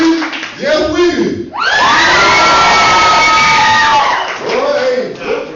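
At an amateur-night church comedy show, a loud audience erupts in sustained cheering, whooping and shouting, with excited voices rising and falling close by.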